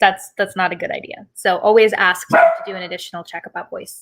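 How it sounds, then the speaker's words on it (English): Household pet dog barking in short sharp bursts at home, heard underneath and between continuous close speech during an online masterclass talk. "I apologize for my dog."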